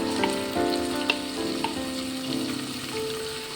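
Onions fry in a pan as vinegar is added for veg manchurian. The pan gives a steady, dense sizzle with scattered crackles and pops, and there is no talking.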